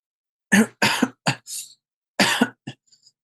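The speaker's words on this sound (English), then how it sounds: "I start coughing, and I just like don't stop coughing for a while there" A person coughs in a string of harsh bursts: two strong coughs, a shorter one, a throaty rasp, then after a pause another hard cough trailing into small catches, close and clear with no talk.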